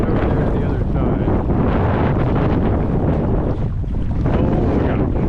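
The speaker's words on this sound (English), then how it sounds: "that wind is howling" Strong wind roars continuously across a lake in Bastrop while out fly fishing from a boat, a loud, dense buffeting rush battering the microphone throughout with no letup.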